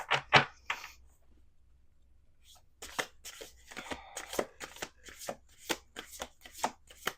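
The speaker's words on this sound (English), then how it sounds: "We're going to do 2 more shuffles." Quick riffle shuffles of playing cards: a couple of bursts, a pause, then a long rapid run of crisp flutters and taps, close and clear.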